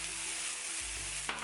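Pancetta and raw potatoes fry in a hot pan with a steady, loud sizzle, broken near the end by a stir or the clatter of added food; no talking.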